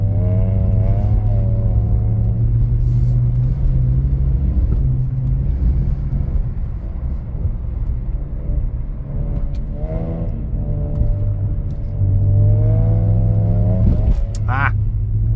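A BMW E46 drifts on winter roads, its engine revving up and down in repeated surges with a loud, close exhaust rumble, while people talk over it.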